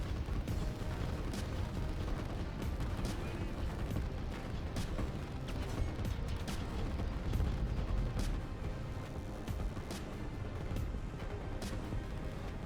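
Artillery fire thunders in the strategy game Line War, a dense, continuous rumble of distant booms and sharp cracks layered over one another at a steady level.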